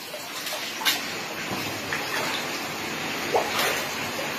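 Rainwater flooding into a house kitchen, carrying fish with it, makes a steady broadband wash of rushing water with small splashes, fairly close and continuous with no talk.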